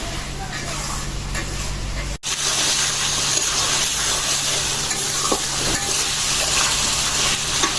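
Spice paste sizzles and is stirred in a pan, a loud, continuous frying hiss with scraping strokes, broken by one short cut near the start; faint talking sits in the background.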